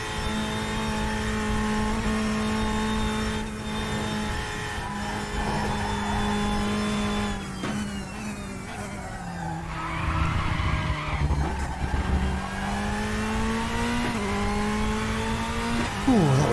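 Ferrari 488 GT3 Evo race car in the RaceRoom racing game, its engine held loud and steady through gear changes, with tire squeal and skidding as it hits curbs aggressively.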